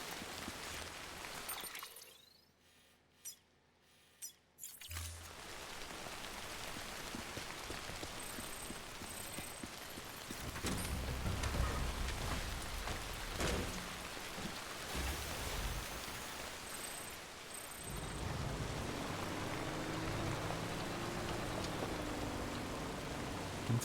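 Timefall rain pours steadily in Death Stranding, a dense hiss of drops on surfaces that drops out briefly near the start and then returns, growing heavier toward the end.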